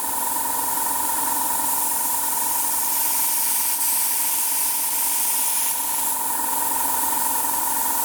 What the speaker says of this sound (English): So with this airbrush we push down and pull the trigger back.